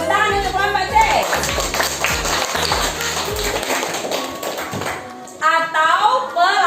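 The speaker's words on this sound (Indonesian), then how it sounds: "tepuk tangan untuk kelompok C" Classroom applause for a student group during an elementary teacher-training lesson, a dense run of clapping from many hands over music-like tones and voices, swelling again near the end.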